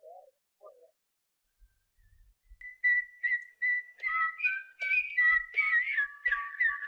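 A person whistles a lilting Irish melody, starting with a few soft low notes, then louder, higher phrases that run together toward the end.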